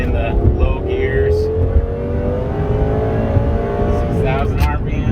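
A Lamborghini engine held high in the revs near its redline, a loud sustained rising engine note inside the car with talk over it throughout.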